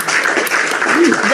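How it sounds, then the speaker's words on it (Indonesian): Short burst of audience clapping during a heated religious debate in Indonesia, loud and close, mixed with overlapping voices and crowd noise for just over a second. "Tepuk tangan dulu, Fandi."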